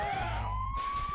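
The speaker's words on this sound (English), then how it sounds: "A siren?" A siren sample inside a track, a wailing tone slowly rising in pitch over booming low drums, loud and brief.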